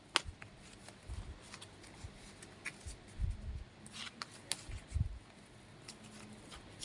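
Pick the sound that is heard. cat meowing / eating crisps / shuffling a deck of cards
shuffling a deck of cards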